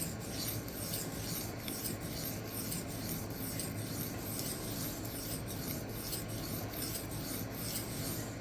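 An Ozark Trail D2 knife is sharpened freehand on a Xarilk 1x6 inch stone, making soft rhythmic rasping strokes, evenly repeated and close, faint and without talk.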